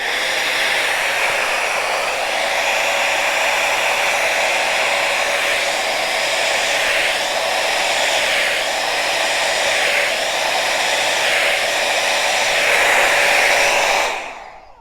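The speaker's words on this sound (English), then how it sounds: "I'm using this open-faced hair dryer, blow dryer that I have. It's pretty powerful." An open-faced hair dryer blows steadily on wet paint, a loud, close, unbroken rushing whoosh with a faint motor whine that holds for about fourteen seconds before switching off abruptly.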